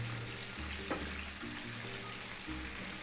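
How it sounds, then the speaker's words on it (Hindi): Chicken zinger strips frying in hot oil, a faint, steady crackling sizzle with a soft hum underneath and no talking. "ये देखिए कितने अच्छे फ्राई हो रहे हैं"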